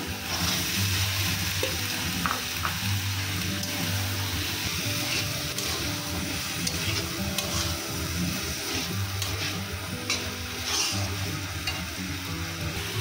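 Green peas and chopped tomato and capsicum sizzle and fry in a hot wok for a Bengali ghugni, with continuous crackling and occasional scraping stirs, close and alone.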